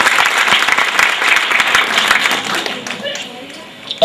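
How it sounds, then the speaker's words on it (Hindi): An audience at a school's silver jubilee celebration in Attock, 2011, gives loud, dense applause with a thick, rapid patter, the clapping tapering off toward the end as voices come through. "ज़बरदस्ती तालियां होनी चाहिए।"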